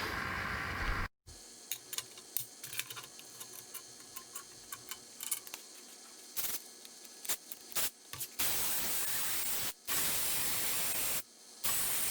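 Crackling, hissing buzz of a quick weld on a Siberian knife repair, a steady broadband sizzle broken by several short pauses, close and fairly loud with no talk.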